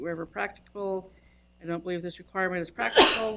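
A single sharp sneeze bursts out near the end of a county planning commission meeting, right after someone speaks calmly into a microphone.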